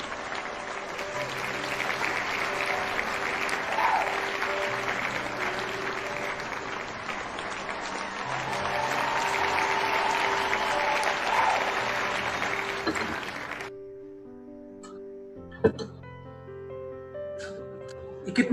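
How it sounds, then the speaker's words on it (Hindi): Audience at a talk about DXN and MLM breaks into sustained, dense applause for a guest professor, the clapping swelling and continuing for over ten seconds before stopping abruptly into a quieter room with scattered sounds. "जबरदस्त ताली, जबरदस्त ताली"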